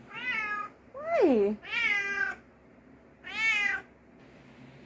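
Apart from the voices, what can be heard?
cat meowing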